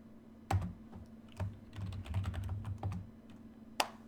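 Typing on a computer keyboard in a programming lab, with scattered close keystrokes, a few louder isolated taps and a short busier run of clicks over a low steady hum.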